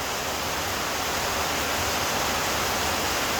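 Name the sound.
heavy rain pouring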